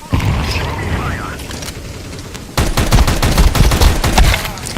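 Loud video game gunfire and explosive blasts during a grenade throw, a dense burst of rapid bangs that thickens sharply halfway through, mixed under a player talking.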